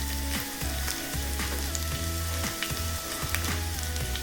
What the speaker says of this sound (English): I'm just going to cook these off, saute these off in this hot wok for approximately about 2 to 3 minutes.